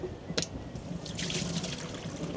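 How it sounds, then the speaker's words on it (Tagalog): Water splashing from a dipper while cleaning off mud, with a sharp splash early on, then a steady trickling pour running for a couple of seconds at moderate level. "Lagyan mo tubig."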